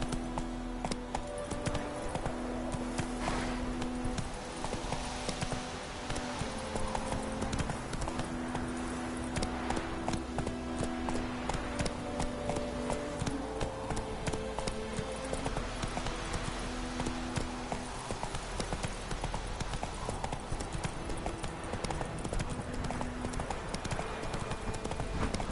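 Horse hooves galloping in a video game, a continuous fast rhythmic clip-clop that runs loud and steady throughout under a dense layer of game music and ambience, with no talk.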